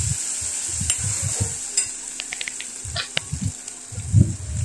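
Frozen peas are stirred in a hot pan while making a quick vermicelli breakfast. A spatula scrapes and knocks in short irregular bursts over a steady, close-up sizzle.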